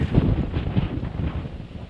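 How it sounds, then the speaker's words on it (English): Strong Hurricane Irma wind gusts roar and buffet an outdoor microphone, a steady loud rumble with surging pulses and no one speaking. "the wind is roaring through. We're getting in those strong gusts of wind."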